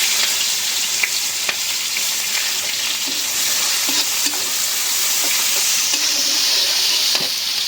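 Chopped onion dropped into hot oil in a kadai for a fish curry, giving a loud, steady, close sizzle with occasional soft stirring clicks, no voices.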